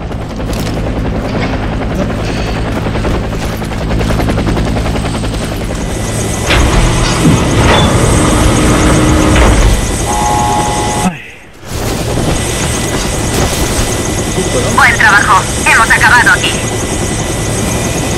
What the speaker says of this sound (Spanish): Hemos enviado un helicóptero para la extracción.